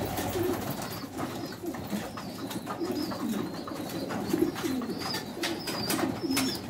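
Pigeons cooing in soft, repeated low calls close by, several birds overlapping in a steady rhythm with faint tapping and rustling around them and no speech.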